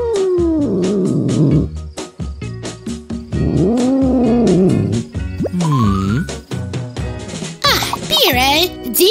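A cat meows and caterwauls repeatedly in a fairy-tale setting, loud and close, with a voice speaking in between the calls.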